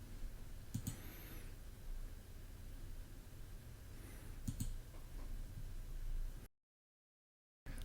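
Two faint, sharp mouse clicks on the Apply buttons in Windows, spaced a few seconds apart over a quiet background hiss, with no talking.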